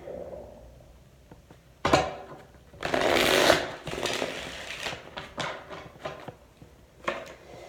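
Tarot cards are shuffled in several quick riffling bursts, with softer handling and tapping sounds between them, close up.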